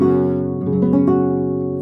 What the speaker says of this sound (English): So you're strumming all the strings, and it should sound like this.